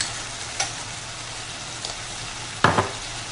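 Rice pulao with cashews and raisins being stirred in a hot pan: a steady low frying hiss with three separate spoon scrapes, the last one loudest, and no voices.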